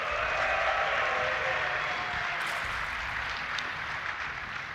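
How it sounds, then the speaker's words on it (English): A distant esports tournament crowd cheers and applauds at DreamHack Winter in a broad, steady wash of noise that slowly fades. "Ladies and gentlemen, give a cheer for EG's IdrA."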